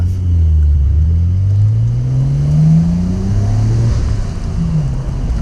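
A Nissan Skyline R34 GT-R V-Spec on a mountain road toward Lake Haruna, heard from inside as the engine drones and its pitch climbs smoothly under load, then eases off near the end, loud and steady with no talk.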